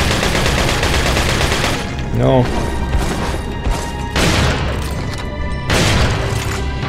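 Gunfire and explosions from the video game Resident Evil 4: loud bursts of shots and booming blasts repeat through the stretch, with a player briefly speaking over the game audio.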